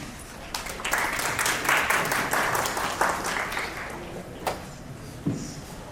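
Audience applause at a financial inclusion conference in North India, a moderate round of clapping from a seated crowd that swells and then thins out over several seconds, with scattered later claps.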